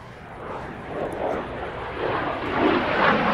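F-86 jet fighter with a straight J-47 turbojet and no afterburner, rolling from inverted to upright at an airshow: a steady broadband jet roar that slowly swells louder as the plane passes.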